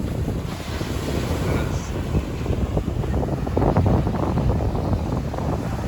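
Ocean waves at a beach in Brazil rumble and wash continuously, heavily buffeted by wind noise on the microphone, with a surge building near the end.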